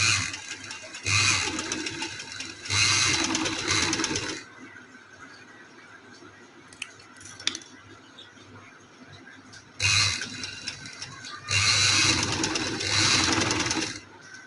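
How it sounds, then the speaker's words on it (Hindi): A sewing machine stitches trouser fabric in two long runs of steady whirring, loud and close, with quieter handling and rustling in the pause between them. "ये देखिए इस तरह से ये मैंने लगा ली है सिलाई।"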